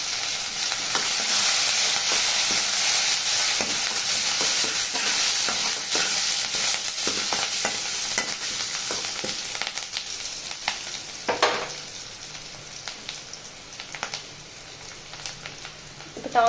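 Curry leaves, mustard seeds and onion tempered in hot oil for a paruppu kuzhambu give off a loud, steady frying sizzle that runs throughout and eases slightly toward the end.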